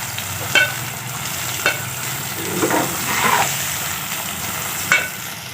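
Chicken keema ingredients sautéing in a frying pan, a steady close sizzle with a few sharp scrapes and clinks as it's stirred.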